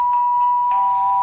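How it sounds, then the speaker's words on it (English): Doorbell chime in a scene from the film A Clockwork Orange: a sustained electronic ringing tone with repeated soft strikes and a brighter restrike partway through, steady and fairly loud, no talking. "The doorbell."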